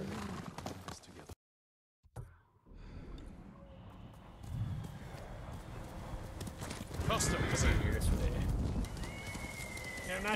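Horse in Ghost of Tsushima, with soft hoof clip-clops and an occasional whinny in the game audio beneath someone talking throughout, growing busier and louder toward the end.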